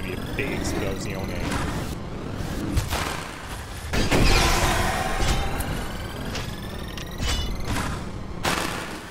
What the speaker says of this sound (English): Oh, this is gonna be a big explosion.